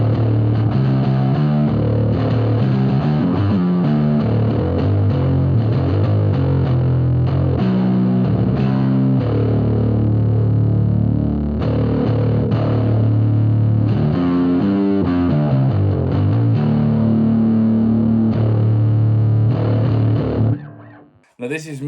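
Bass guitar through a Fuzzarosis Bong Gripper fuzz pedal, a thick, heavily distorted low riff played continuously and loudly before cutting off abruptly near the end.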